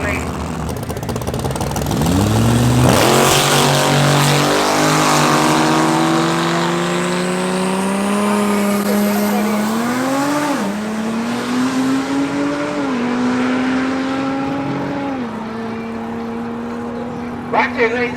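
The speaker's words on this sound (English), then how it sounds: "Up next, cross-body Mustang V8 power, Mr. Bradley Street in the right-hand lane." A cross-body Mustang V8 drag race car launches at Tarlton International Raceway, loud engine roar climbing through several gear changes and fading as it runs down the strip, with a commentator talking over it.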